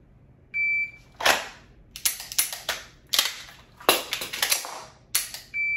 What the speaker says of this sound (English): now you know Beretta mags, when they hit the ground, they like to ejectosito themselves from existence